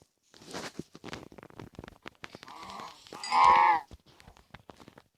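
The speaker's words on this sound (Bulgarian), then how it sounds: "сега кравата да убия" Minecraft cow moos once in a Bedrock-style survival game, a loud, drawn-out low call standing out among nearby footsteps and game sounds, with no talking.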